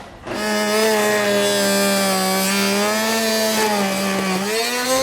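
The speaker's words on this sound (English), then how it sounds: "we're going to take a rotary tool with a cutting blade, and we're going to start trimming out." Rotary tool with a cutting blade trimming a car bumper on a 2017 Audi Q, a loud, close, high-pitched whine holding steady with a slight dip in pitch as the blade bites, continuous and with no voices.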